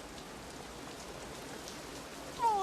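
Steady, dense rain pours down during a flood storm in a dramatic film scene, an even hiss of drops on surfaces that holds throughout, with a brief thin whistle-like tone near the end.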